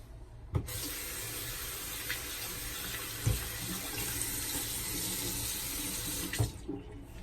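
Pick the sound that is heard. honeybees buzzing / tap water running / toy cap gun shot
tap water running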